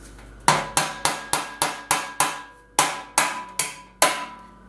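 Eleven sharp hammer blows drive roofing nails into a big wood block, ringing metallic strikes with a brief pause partway through, close and loud with no talk.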